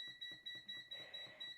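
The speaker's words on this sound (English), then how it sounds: "I hope you enjoy the beeping noise." Oven timer beeping steadily in a small home kitchen while a high-protein chocolate cake goes in to bake, short repeated beeps in a regular pulse over a constant high electronic tone.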